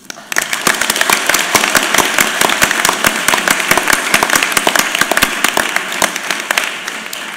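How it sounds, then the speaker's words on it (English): Audience at a graduate engineering awards ceremony clapping for the Class of 2015, loud, dense applause with sharp individual claps that keeps going steadily for several seconds. "Let's give our graduates a well-deserved round of applause."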